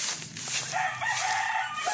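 Chickens and a rooster in a farmyard, the rooster crowing clearly at mid distance over a background of clucking and general bird noise, with no talking.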